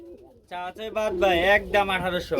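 Pigeons coo loudly and close at a pigeon sale, giving a run of throaty, warbling calls with short gaps between them.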